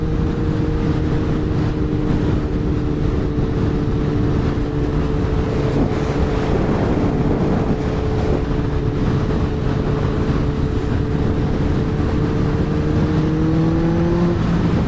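Stretched and lowered Kawasaki ZX-14R motorcycle cruising in traffic, a loud, steady engine drone with sustained tones that climb slightly near the end, heavy wind rush throughout, no voices.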